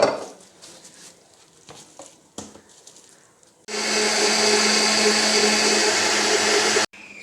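A blender starts up after some quiet clatter and grinds yogurt, gram flour and water steadily at high speed for about three seconds, then cuts off abruptly.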